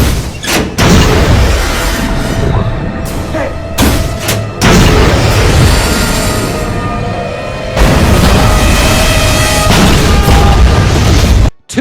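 Dramatised torpedo explosions striking the starboard side of the warship USS Indianapolis at night: massive, sustained booming roars with deep rumble, loud and dense, broken by brief gaps and ending abruptly.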